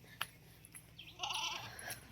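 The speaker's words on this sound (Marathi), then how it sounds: "आता शेळ्या वरडायला लागले" Goats bleat faintly in the distance on a small farm, a few short calls over quiet outdoor background.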